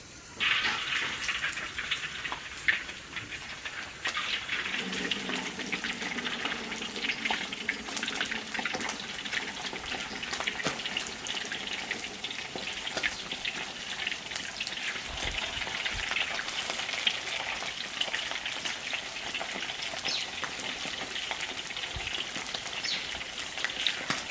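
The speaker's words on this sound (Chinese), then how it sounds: "油温提升了，炸鱼" Catfish frying in hot oil in an iron wok, a steady dense crackling sizzle with sharp popping spatter that runs throughout, close and fairly loud, with no talking.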